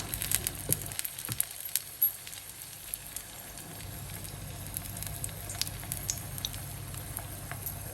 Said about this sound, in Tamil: இப்போ எண்ணெய் காஞ்சிருச்சு இப்போ ஒவ்வொரு வடையாக நம்ம தட்டி போட்டுக்கலாம்